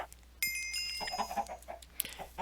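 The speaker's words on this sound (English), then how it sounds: "this chicken population looks like it needs to be thinned out anyway" Soft clucking of chickens in the Minecraft video game, several short quiet clucks scattered over a faint high-pitched tone, with no talking.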